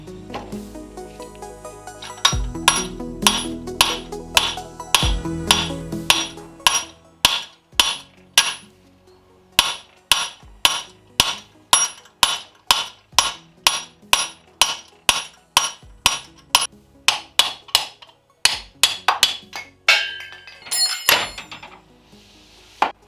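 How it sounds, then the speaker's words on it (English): Old bushings being hammered out of a Honda Civic part with a long run of sharp metal-on-metal hammer strikes, steady and rhythmic, close and loud, with a few heavier thuds early on and brief pauses between groups. "I might just have to hammer it out this side"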